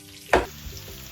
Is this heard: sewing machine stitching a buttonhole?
no